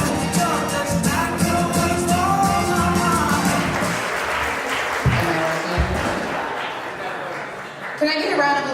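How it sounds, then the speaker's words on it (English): Wedding guests applauding the newly married couple at the ceremony, a sustained round of clapping with some cheering and talk in the room, fading toward the end. "put your hands together for Mr. and Mrs. Hoffman out there."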